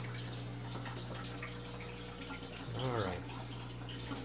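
Water runs steadily through an aquarium fish room's automatic water change system, a constant low flowing wash heard under a steady hum, with a brief voice partway through.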